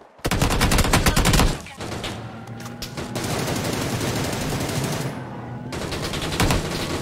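Automatic gunfire in PUBG New State, a loud rapid burst of close shots at the start, then sustained, denser firing and battle noise continuing steadily to the end.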